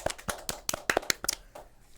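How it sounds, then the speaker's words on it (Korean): Studio hosts give a short burst of hand clapping, a handful of sharp, uneven claps close by that trail off within two seconds. "박수 한번 드리죠"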